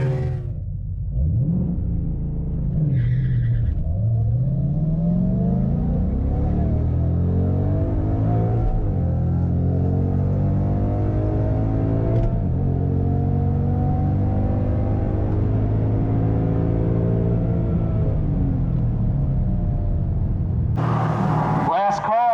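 A Volvo V70R wagon revs and pulls away on a drag strip, its engine droning steadily and loud for most of the run, with people talking over it.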